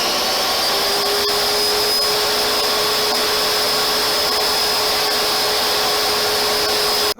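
A table saw runs steadily for the whole stretch with a loud, constant whine, as a board gets one more pass during work on a 1905 cottage restoration.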